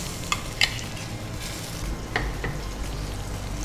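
Ground fried peas dropped into a hot cumin and asafoetida tempering, giving a steady close sizzle with a few sharp clicks and scrapes of stirring.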